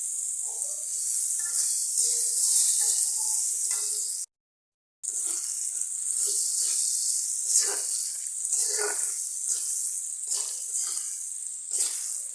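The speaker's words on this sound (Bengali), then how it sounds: "হালকা করে সুন্দর আস্তে আস্তে ভেজে নিতে হবে" Pointed gourd peels frying gently in a pan, a continuous soft sizzle and hiss with faint stirring scrapes, close by and steady apart from a short break.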